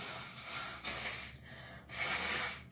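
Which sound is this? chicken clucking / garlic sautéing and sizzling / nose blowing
nose blowing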